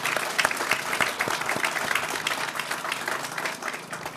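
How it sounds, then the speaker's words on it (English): A crowd at a groundbreaking ceremony applauds steadily, dense clapping filling the space at a constant level for several seconds. "Let's give everyone another round of applause"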